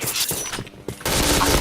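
Rapid gunfire in a multiplayer shooter game, bursts of shots crackling loud and close, with a brief lull before a dense, sustained volley.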